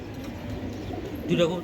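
A chocolate racing pigeon gives a brief, fairly close coo near the end, while people talk over it throughout.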